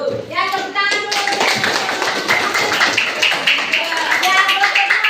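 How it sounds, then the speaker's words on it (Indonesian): Classroom students clap after a group presentation, a busy patter of hands mixed with children's chatter and a teacher's voice throughout. "Ya, tepuk tangan dulu."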